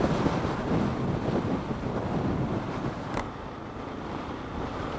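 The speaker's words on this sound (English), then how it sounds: "that wind is absolutely bitter" Strong, bitterly cold wind buffeting the microphone on a KTM 690 motorcycle ride, a steady loud roar throughout with no talk.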